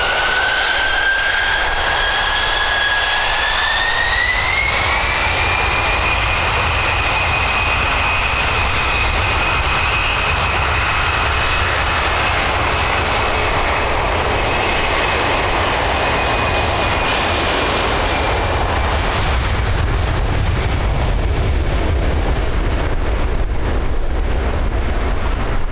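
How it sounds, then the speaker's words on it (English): A Boeing C-17A Globemaster III of 99 Squadron, RAF Brize Norton, flies past at an air show, its loud, steady jet engine roar sustained throughout with a rising whine and wind buffeting on the microphone. "the magnificent Boeing C17A Globemaster 3"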